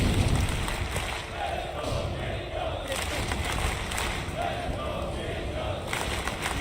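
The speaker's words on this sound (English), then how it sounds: "And the crowd is really starting to come alive now." A large arena crowd at a Counter-Strike match in Stockholm roars steadily, a dense continuous wash of cheering and shouting with a commentator's voice over it.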